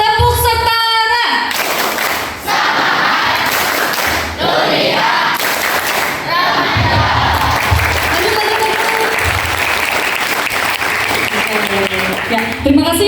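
A group of students at a school health session claps a rhythmic clapping cheer in unison, loud and close, with voices shouting along over the steady beat.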